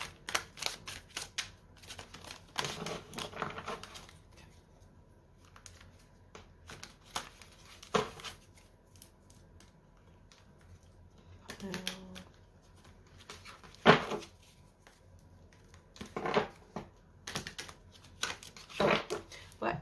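Tarot cards are shuffled by hand in soft, intermittent bursts separated by quiet pauses. The sound is faint and close.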